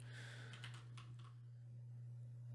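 Computer keyboard keys are pressed in a quick cluster of soft, faint clicks over a steady low electrical hum, then the typing stops and only the hum remains; no voices.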